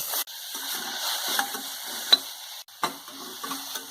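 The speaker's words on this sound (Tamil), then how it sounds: "வெங்காயத்துக்கு பதிலாக கோஸை போட்டு நல்லா வதக்குறேன்" Shredded cabbage sautéing in hot oil tempered with cinnamon and fennel, a moderate crackling sizzle broken by repeated spatula scrapes and taps against the pan, close and without voices.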